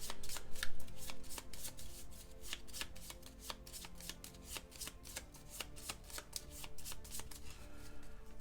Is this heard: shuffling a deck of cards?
yes